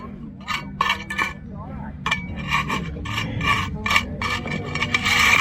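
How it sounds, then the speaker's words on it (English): Hand float rubbing and scraping along a concrete border edge in a run of rough, gritty strokes with a few clinks, close by, while someone talks over it. "Always make sure you float those out real good."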